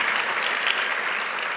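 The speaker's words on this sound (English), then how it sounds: "Big round of applause for Olivia" A banquet audience at a university media arts awards evening claps for an honoree, a steady, even round of applause from a roomful of people without any voices over it.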